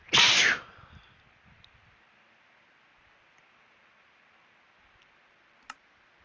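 A single sharp sneeze bursts out right at the start, close and loud, followed by faint room quiet and a small click a few seconds later.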